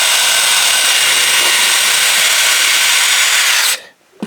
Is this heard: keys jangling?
no